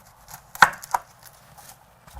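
A dull kitchen knife chopping an onion on a board: two sharp, close thuds a moment apart, followed by softer faint cutting noises, with no talking.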